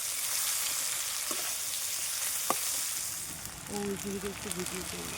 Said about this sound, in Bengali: পেঁয়াজটা খুব সুন্দর দেখুন বাদামি বাদামি কালার ভাজা হয়ে গেছে